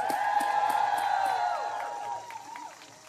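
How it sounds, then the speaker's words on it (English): An outdoor rally crowd outside the U.S. Capitol, protesting a Supreme Court nomination, cheers with whoops, shouts and scattered clapping, loud at first and then tapering off over a few seconds. "Let's give them a round of applause."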